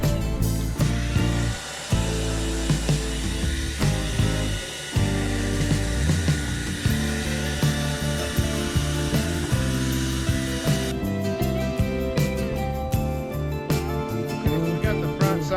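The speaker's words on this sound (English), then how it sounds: "I stole the wife's extra blow dryer. So we're gonna blow dry this off." A household hair blow dryer dries adhesive on a car door panel of a Honda CRX, giving a loud, steady whir that changes as the dryer is moved, with brief gaps and some clatter.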